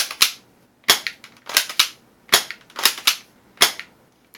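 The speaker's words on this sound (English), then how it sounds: "you can fire it on both semi and auto" A SIG MPX airsoft gun fires about eight sharp, snappy shots in uneven single pops, close and loud, with quiet gaps between them.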